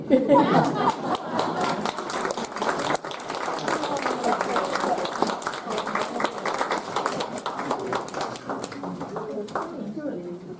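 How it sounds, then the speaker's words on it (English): Theatre audience applauding at the end of a Castaways stage performance, a steady wash of clapping that holds for about ten seconds with some crowd chatter mixed in, gradually thinning toward the end. "A round of applause for Cicely Lawson, Alan Hickenbottom, and Martin Beckett"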